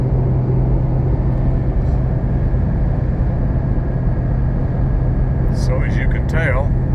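A Porsche GT4 fitted with a Soul Performance V2 exhaust, performance OAP and sound symposer delete cruises in seventh gear at about 80 mph on an interstate on Michelin all-season tires, giving a loud, steady drone with a brief voice near the end.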